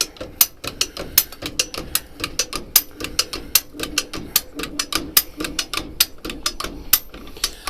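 A bumper jack is ratcheted upward using a heavy-duty screwdriver as a lever, producing a steady, rapid series of sharp metallic clicks close by, with no talking.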